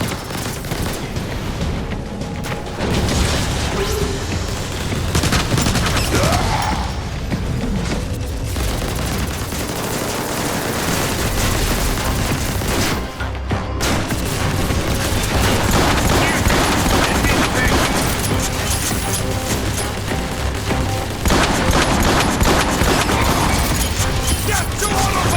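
Dense, sustained automatic gunfire from the Transformers War for Cybertron video game: heavy bursts and booms of weapon fire mixed with mechanical clanks, loud and continuous for the whole stretch, with a few brief gaps.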